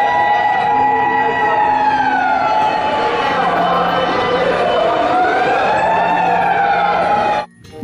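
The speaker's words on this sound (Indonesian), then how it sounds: "Pemadam kebakaran, teman-teman." A toy fire truck siren gives a loud, continuous wail that rises and falls in pitch, steady and close, ending with a brief dip at the very end.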